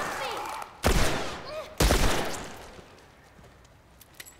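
Two sharp, loud gunshots ring out about a second apart in The Last of Us Part, each trailing into a short decaying echo, with someone shouting and speaking between them.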